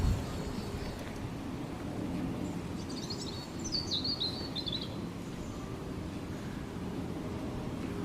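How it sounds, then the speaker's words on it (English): Birds chirp and sing in a short series of bright calls in Victoria Park, Hackney, London, standing out faintly over a steady low rumble of wind or distant city noise. "we hear our first bird sound, which means we're getting away from the busy heart of Hackney and out to Victoria Park"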